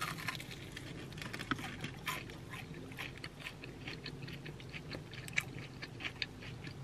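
Crunchy chicken wings being bitten and chewed up close, with repeated crisp crunches and mouth sounds in an irregular rhythm over a quiet room background.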